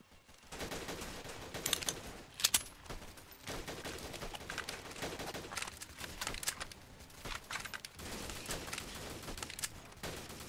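SMG fire in the shooter Freeman: Guerrilla Warfare, dense bursts of rapid shots crackling steadily through the whole stretch, with a few sharper loud cracks standing out early on.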